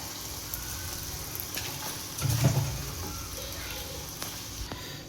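Boiled pasta is mixed into masala in a kadhai, giving a soft steady sizzle with a few spoon scrapes and a short louder stir in the middle.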